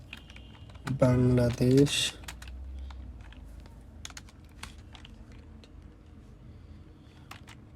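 Light clicks of someone typing on a computer keyboard follow a brief spoken word, scattered and quiet keystrokes close to the microphone.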